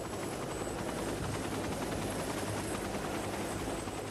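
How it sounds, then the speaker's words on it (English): A life flight medical helicopter's steady, loud rotor thrum and engine whine fill the whole stretch without letting up, close and constant. "A life flight helicopter transported Trista the 17 miles to Eggleston Children's Hospital."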